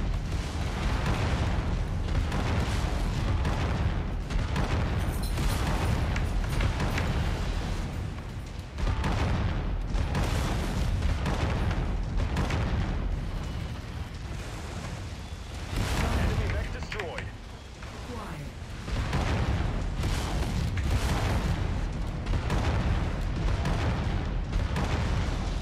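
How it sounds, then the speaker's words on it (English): Heavy AC-20 autocannon fire from a mech in MechWarrior 5 pounds out continuously with dense, loud booming blasts, briefly pausing twice before resuming, with game effects layered underneath. "this thing really can actually pump out the AC-20 rounds if you sit on the trigger there"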